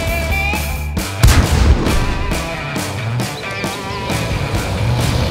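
Tank guns firing in a World of Tanks replay, a series of heavy cannon shots roughly every second or so over a constant engine drone, loud and close, with no talk.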